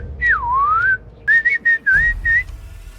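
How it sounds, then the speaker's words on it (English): A person whistles outdoors, clear and close: one long sliding note followed by a quick series of short, level chirping notes with brief gaps, alone with no talking. "I'm gonna just whistle and see if we happen to hear something."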